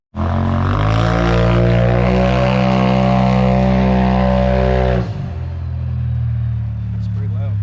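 A Polaris side-by-side engine roars loudly and close with a strong, steady drone, then drops sharply to a lower idle-like rumble partway through, with a voice speaking briefly near the end.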